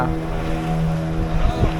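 Steady low engine drone of a fishing boat motor at sea off Vengurla, continuous and close, with wind and water noise around it.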